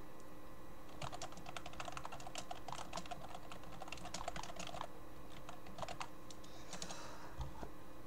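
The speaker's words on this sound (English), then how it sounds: "I'm just typing in the chat" Steady clicking of keys on a computer keyboard, someone typing in bursts of rapid taps with brief pauses, close and clear over a quiet room hum.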